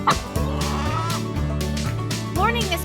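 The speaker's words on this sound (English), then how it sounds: "Morning, Mr. Rooster" Cartoon rooster and hen clucking on a farm: short, bright bursts of clucks set against a busy, musical backing.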